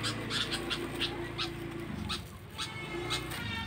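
Birds caught in a village are set free on a bright morning, letting out repeated short chirps at a steady pace over a low, constant outdoor hum.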